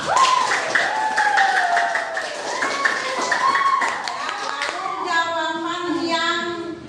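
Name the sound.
classroom students clapping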